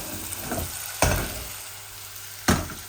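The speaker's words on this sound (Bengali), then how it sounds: "এই চিকেনটা আস্তে আস্তে বোনা হোক।" Young chicken frying in a pan for a Bangladeshi bhuna curry, a steady soft sizzle broken by two sharp scraping stirs about a second and a half apart, close and alone with no voices.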